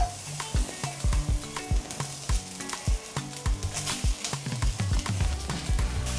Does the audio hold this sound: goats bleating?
no